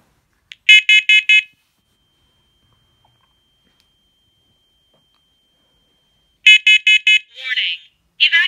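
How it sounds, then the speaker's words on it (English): First Alert PC900V smoke and carbon monoxide alarm in a hallway, sounding two bursts of four loud, sharp electronic beeps separated by a long silence, with a recorded voice warning following the second burst. "Testing. Warning. Evacuate. Smoke in hallway."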